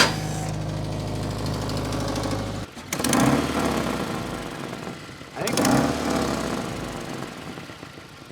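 A Subaru engine with a blown exhaust gasket runs close by with a steady buzzing idle, briefly revving twice in raspy, ticking surges before settling back.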